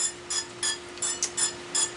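A spray bottle is pumped repeatedly while coating BBQ cups, about seven short hissing spritzes in a steady rhythm, close and moderately loud, with no talk.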